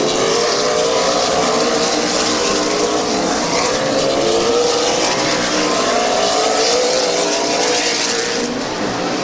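Race cars circling the track at Midvale Speedway during a stock car feature, their engines roaring loudly and continuously with a steady, dense drone that barely dips across the whole stretch.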